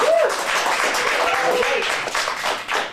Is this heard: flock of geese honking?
no